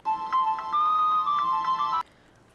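Phone ringtone playing during a call: a bright, melodic electronic ring with pulsing repeated notes for about two seconds, then cutting off abruptly into quiet.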